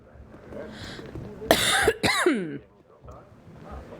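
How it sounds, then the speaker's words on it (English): A man, a gamer, coughs twice in quick succession, two harsh close bursts with a raspy, throaty edge, rising over quiet game music and ambience. "what is it with this cough?"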